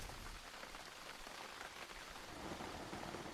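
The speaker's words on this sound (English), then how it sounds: "And here comes the rain." Rain falls steadily in the theHunter: Call of the Wild hunting game, an even, dense patter of drops on surfaces that holds constant throughout with no voices.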